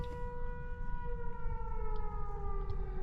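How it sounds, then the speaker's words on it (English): A tornado warning siren wails steadily at a distance in Oklahoma, its tone slowly falling, over a low rumble of wind or background noise. "Maybe it's a tornado test siren or something."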